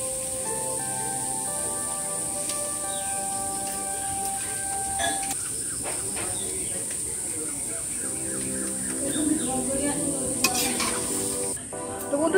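Sweet palm fritters (taler bora) fry in hot oil with a continuous low bubbling sizzle, joined by faint clinks and background birdsong, with no talk.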